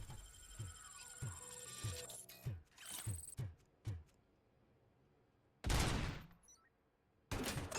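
Enemy gunfire in RoboCop: Rogue City, a rhythmic series of sharp mechanical shots, then a pause before two loud, harsh bursts of noisy fire, with no talk.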